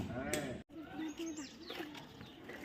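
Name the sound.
goats bleating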